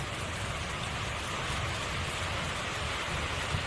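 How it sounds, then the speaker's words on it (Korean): Heavy rain roars steadily and densely throughout in the countryside, a constant loud wash of falling water with no pauses or voices. "빗소리가 엄청 커졌습니다."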